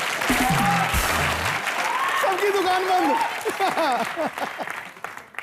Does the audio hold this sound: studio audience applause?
yes